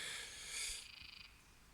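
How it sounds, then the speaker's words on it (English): Frogs croaking at a quiet lake, faint and distant, with a soft rapid pulsing trill partway through over a calm, still background. "You can hear the frogs."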